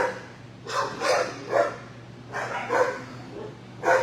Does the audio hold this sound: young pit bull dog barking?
yes